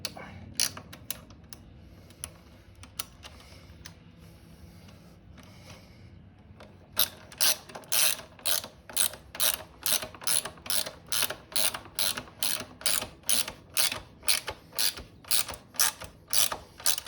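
Ratcheting wrench clicks in a steady rapid series while the rear axle nut is tightened during chain tensioning on a Talaria StingR electric dirt bike, close and fairly loud, preceded by quieter scattered metallic clinks.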